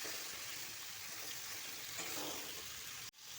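Giant freshwater prawns fry in hot oil with a steady, close, even sizzle and hiss that runs without talk before stopping abruptly near the end.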